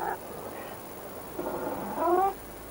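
European wildcats in courtship, a female in heat, giving a couple of drawn-out wavering yowls, the second louder and rising, from a moderate distance over steady outdoor background noise.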